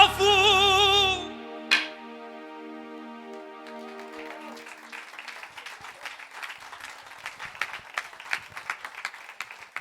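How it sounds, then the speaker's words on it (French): Audience applause at a musical-theatre studio show, starting after a held sung note and a sharp hit, then swelling into a scattered, growing patter of many hands clapping. "Je crois qu'on peut l'applaudir très très fort"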